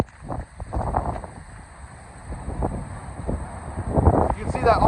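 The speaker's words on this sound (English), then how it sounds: "These winds are so strong." Strong storm wind gusts during a wind storm in Sullivan, Missouri, buffeting the microphone in loud, uneven surges with a rumbling roar that swells and eases over several seconds.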